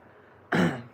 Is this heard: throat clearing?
yes